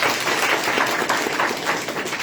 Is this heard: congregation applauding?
yes